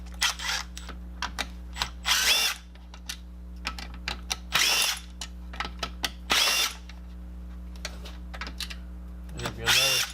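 A power drill with a Phillips bit whirs in several short bursts, about a second each, between ticks and handling noises, removing screws from a Makita 5007F circular saw during a cord replacement, over a steady low hum.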